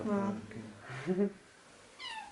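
Several cats meow at an animal shelter, a few harmonic cries up close at the start with more around the middle and end, while a person talks in the room.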